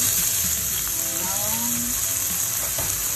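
Ground pork frying in a pan for a Thai holy basil stir-fry, a loud, steady sizzle with faint crackles and a few soft tonal squeaks from the pan.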